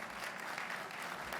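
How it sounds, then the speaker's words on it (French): Diners at an annual dinner applaud the Prime Minister, a continuous wash of many hands clapping, fairly faint and distant throughout. "S'il vous plaît, des applaudissements pour le Premier ministre"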